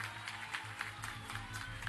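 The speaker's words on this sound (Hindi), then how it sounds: "कल्याण कुमार नंदी जी को ताली बजाइए" Crowd applause at an outdoor political rally in Chapra, a dense, steady patter of clapping from many hands, fairly faint and distant, with a low hum beneath.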